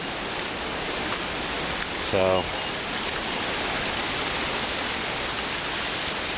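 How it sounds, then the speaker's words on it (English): Indian Camp Creek rushes below a hiking trail in the Great Smoky Mountains, a loud, steady broadband roar of flowing water that fills the scene, with a brief voice cutting in once. "feeding the Indian Camp Creek down there, which you can probably really hear right now"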